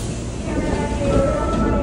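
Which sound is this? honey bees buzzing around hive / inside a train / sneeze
inside a train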